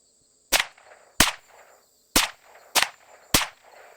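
Five sharp shots from a Rossi RS22M .22 Magnum rifle firing Federal small game ammunition, spaced irregularly over a few seconds, each a crisp crack with a brief echo tail and quiet between.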